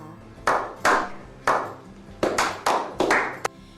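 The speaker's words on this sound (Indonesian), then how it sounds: "tepuk tangan dulu dong buat Super Kids yang luar biasa" Children clap hands for a kids' online church program, sharp separate claps in uneven bursts, a few spaced apart then a quicker cluster, close and fairly loud.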